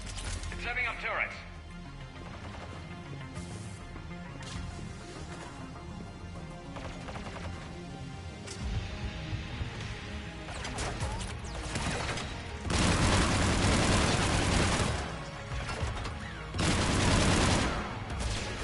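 Turret gunfire in the Mass Effect video game against Geth, bursts of crackling shots that swell loudest in two dense stretches near the end, mixed with game effects and people talking throughout.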